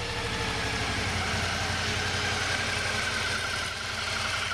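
A 2012 Suzuki V-Strom 650 motorcycle engine idles just after starting, a steady, even close-up thrum with a fast regular pulse and no talking.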